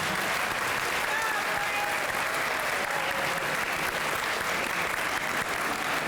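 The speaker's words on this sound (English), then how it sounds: "will you help me give one more round of applause to Mr. Bran Merritt?" Sustained applause from a seated audience at a cancer survivor dinner, a dense, even wash of many hands clapping steadily throughout without a break.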